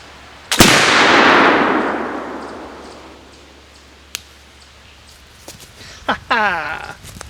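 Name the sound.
Early Lancaster County rifle gunshot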